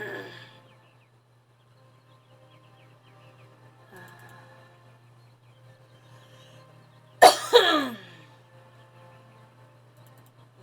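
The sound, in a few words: character coughing in the video game Syberia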